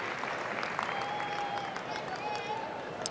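A sellout crowd at the Westminster dog show's Best in Show ceremony applauds steadily, a dense wash of clapping and cheering from a large arena, with a commentator talking over it.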